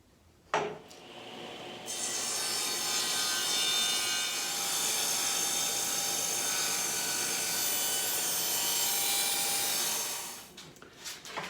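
A power saw cuts across the end of a piece of pallet wood, a loud continuous whining buzz lasting about eight seconds after a sharp start, then winding down, heard close up with no voices.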